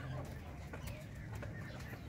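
Native chickens on a farm, hens and a rooster, give soft clucks and coo-like calls at close range under a muffled farmyard background.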